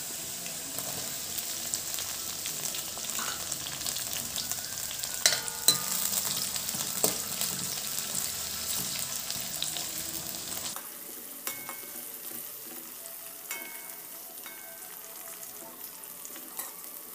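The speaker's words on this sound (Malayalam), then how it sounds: "ഇനി അടുത്ത് നമുക്ക് പച്ചമുളക് ഇട്ട് കൊടുക്കാം." Green chillies frying in a pan with small prawns. The sizzle is steady and busy at first, then drops to a quieter crackle about two-thirds of the way through, with occasional soft utensil clinks.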